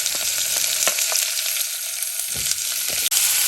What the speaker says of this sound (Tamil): வெங்காயம் நல்லா பொன்னிறமாக வதங்கி வரணும். அதை மட்டும் நீங்கள் பார்த்து வதக்கி எடுத்துக்கோங்க.